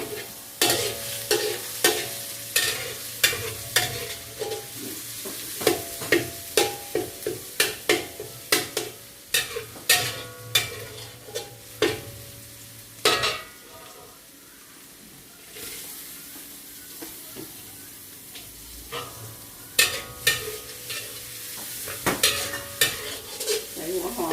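Stir-frying old-style Thai noodles with fried garlic in a pan: a steady sizzle runs under a rapid series of sharp scraping and tapping strokes from a utensil against the pan, continuing with brief pauses, close and loud.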